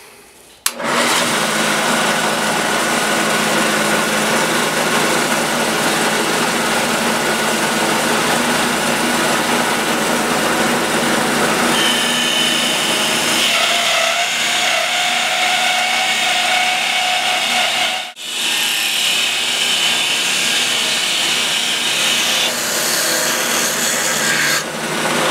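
A hole saw on a Shopsmith lathe bites into hard maple with a loud, steady grinding whine, shifting pitch partway through and briefly dipping before resuming, continuous and close.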